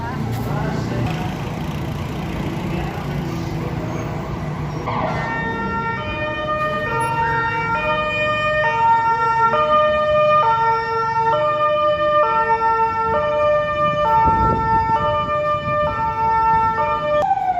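A loud ambulance siren wails close by in Aigaleo, Greece, switching to a repeating two-tone pattern, over street traffic noise.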